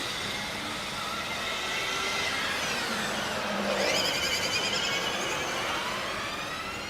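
Formula Student race car number 43 at an endurance event, a high whining gearbox tone rising and falling over steady loud engine and track noise, with a passing sweep in the middle, no talking.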